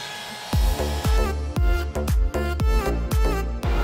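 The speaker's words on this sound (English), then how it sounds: "chose to use our electric pump over the built-in compressor to inflate the tubes" An electric air pump inflates tubes, powered from the outlet of a Rivian R1T pickup. It makes a loud, close, buzzing hum that surges in regular pulses, roughly twice a second, throughout.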